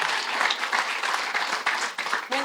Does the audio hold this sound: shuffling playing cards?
no